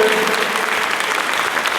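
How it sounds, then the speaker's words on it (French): Steady, dense applause from an audience at a hackathon in Quebec City fills the whole clip, even and sustained without pause. "Un bel applaudissement pour notre projet numéro 2."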